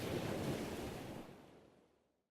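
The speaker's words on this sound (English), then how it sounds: "The waves were choppy, and he had to paddle harder than before." Choppy ocean waves surge in a broad, wind-blown wash of surf, loud at first and then fading steadily over a couple of seconds with no voices.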